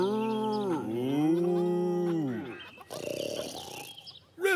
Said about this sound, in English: Farmer Hen heard the mooing